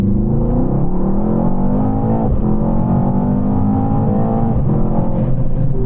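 A high-performance sports car, such as an Audi RS7, BMW M8 or Mercedes-AMG GT 63 S, accelerates hard down a runway, its loud engine note rising steadily through the gears with a brief shift dip, close and continuous.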